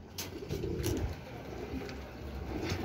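Racing pigeons at their loft after a 175 km training flight from Rosario, La Union, giving low, soft cooing in a steady murmur with a few faint chirps.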